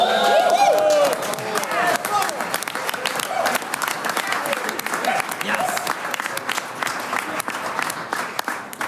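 Sustained audience applause fills a Swiss folk choir concert at a midsummer open-air event on a farm, steady dense clapping after a short spoken word and a brief cheer at the start.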